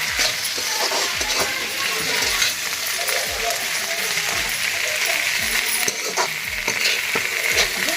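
Chicken and potato pieces being stirred and fried in a pan, loud sizzling under rhythmic scraping strokes of a spoon, close and continuous, with no one speaking.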